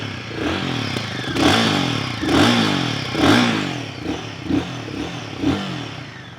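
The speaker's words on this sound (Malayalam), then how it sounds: "ഇതാണ് ഇതിൻ്റെ എക്സോസ് നോട്ട്." A stationary Royal Enfield Guerrilla 450 motorcycle is revved repeatedly, its exhaust rising and falling in loud, rhythmic pulses over a throbbing idle, recorded up close.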